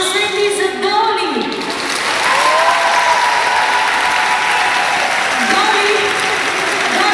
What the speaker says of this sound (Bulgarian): Аплодисменти за Доли!